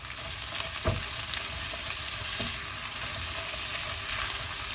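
Ginger, garlic and chili paste fries with onions in a pan for a Fiji-style chicken giblet curry, giving a steady close sizzle with a few soft stirring knocks and no talking.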